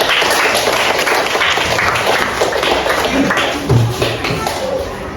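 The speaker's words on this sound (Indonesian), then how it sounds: "Kita kasih tepuk tangan dulu untuk kasih" Clapping from a classroom of students rewarding a student group at the front, steady and dense across the whole stretch with some shuffling and low murmurs underneath.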